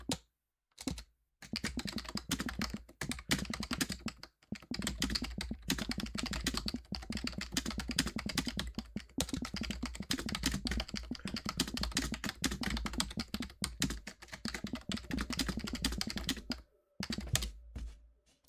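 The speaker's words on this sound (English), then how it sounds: "oh yes, I should type this in chat." Rapid, continuous clicking of computer keyboard keys while a chat message is typed, close and fairly loud, with a few brief pauses near the start and end and no talking.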